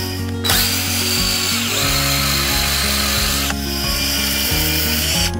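A garden auger drills planting holes for daffodil bulbs, a continuous geared whine with grinding soil texture that shifts pitch under load, rising sharply near the start and again midway.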